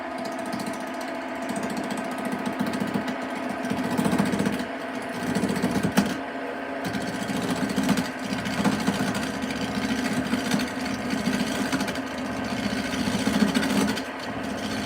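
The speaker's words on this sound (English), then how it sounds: "Let's get the roughing gouge out." A wood lathe spins a tool-handle blank as a roughing gouge cuts into it, making a steady, continuous rough scraping and whirring that swells and dips slightly over about fifteen seconds, close and alone with no talk.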